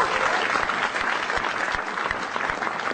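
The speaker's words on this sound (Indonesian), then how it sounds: "Tepuk tangan dulu buat stand up comedy" Dense audience applause at a stand-up comedy show in Indonesia, steady and fairly loud for about three seconds, with faint voices mixed in.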